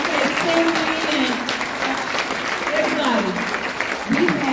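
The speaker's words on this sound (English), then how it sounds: "Just give them a hand clap" Conference audience clapping for staff at an education event, a sustained broad patter of many hands, with a voice speaking over the applause throughout and a brief swell near the end.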